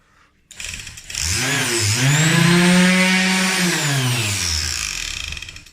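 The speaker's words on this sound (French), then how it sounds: "c'est une ponceuse excentrique orbitale, c'est une 450 watts" A 450-watt eccentric orbital sander (Bort BES-450) whirs up and runs steadily with a droning motor hum, close by, holding its pitch with slight wavering.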